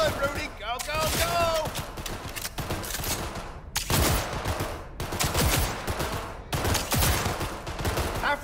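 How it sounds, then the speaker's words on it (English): Burst-fire gun shooting at targets in Cyberpunk 2077, loud clustered volleys of shots repeating every second or so amid echoing impacts, with voices talking over the gunfire. "I can't help that this thing is burst fire"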